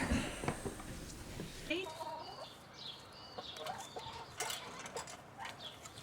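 Hens cluck and murmur close by, with scattered clucks and a few rattly mechanical clicks from a weight-operated coop door over a steady farmyard background.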